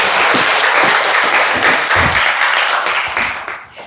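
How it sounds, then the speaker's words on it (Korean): A church congregation gives loud, sustained applause to welcome the pastor at a Sunday service, a dense wash of clapping that swells and then begins to fade toward the end. "목사님 나오실 때 큰 박수로 우리 환영하면 좋겠습니다"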